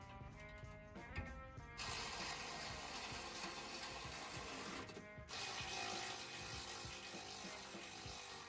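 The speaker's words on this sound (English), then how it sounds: "Then finish tighten up the bumper with a power tool." A power tool drives in the bolts on a Ford Bronco rear bumper, giving steady mechanical whirring bursts separated by short pauses, quiet and close.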